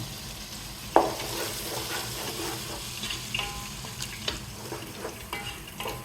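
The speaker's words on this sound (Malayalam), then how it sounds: "ഇളക്കി കൊടുക്കണം." Chicken with Arabic masala sizzles and fries in a pan while a utensil stirs it, with steady frying hiss, a sharp clank near the start and scattered scraping clicks, close and with no talking.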